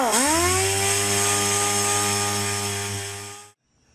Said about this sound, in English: I used a DA sander with 400 grit